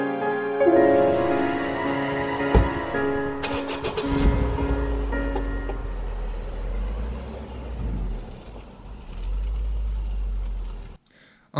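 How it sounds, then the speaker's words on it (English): A Honda Fit on the road towing a steel-frame trailer, its steady low engine and road rumble running continuously and fairly loud, with a brief thump early on and the noise cutting out near the end. "I was thoroughly impressed by how well the fit was handling towing the trailer"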